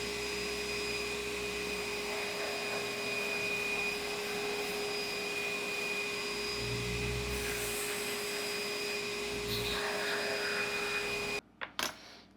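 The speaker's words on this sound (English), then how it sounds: "So let's put it on the buffing wheel." A buffing wheel polishes lightly oxidized metal, a steady whining motor hum with a bright high tone and occasional surges as the piece presses against the wheel, stopping abruptly near the end.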